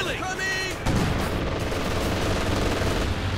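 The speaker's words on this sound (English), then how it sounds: "quick strafing run in. In fact, the Luftwaffe is summoned up." Rapid gunfire from a Luftwaffe strafing run in the World War II strategy game Company of Heroes 2 rattles loudly and continuously, with a brief voice at the start.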